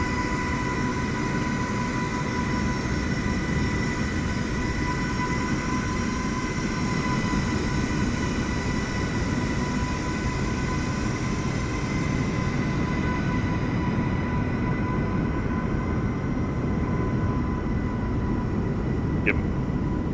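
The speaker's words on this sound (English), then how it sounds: "Man, look at all these planes lined up out here." Jet airplanes on the taxiway at LAX airport at night, a loud constant engine roar with whining tones throughout, close and continuous.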